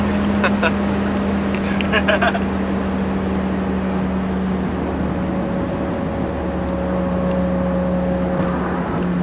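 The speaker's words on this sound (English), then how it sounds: "I thought this was a fast car, James." A car costing around $200,000 drives along a road, a steady engine drone with a sustained tonal hum and shifting pitch as it accelerates, heard inside the cabin under occasional voices.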